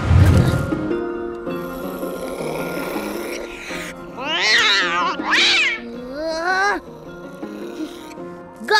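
A cartoon cat in an animated children's film meows and caterwauls in a series of loud, drawn-out, wavering yowls over a musical score.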